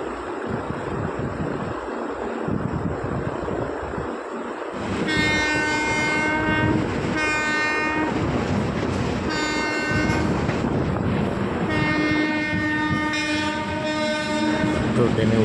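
A moving train clatters steadily while its horn sounds in repeated long harmonic blasts, loud and close. Several separate horn bursts rise over the continuous rolling rail noise.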